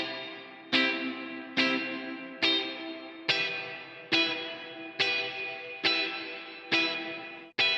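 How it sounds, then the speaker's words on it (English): Plucked notes played through the Variety Of Sound Epic Plate reverb plugin, a free plate reverb with an amp-reverb character: nine evenly spaced struck tones, each blooming into a lush, smooth decaying tail that rings under the next, with no talk. "Sounds more like an amp reverb, but platey, like a really,"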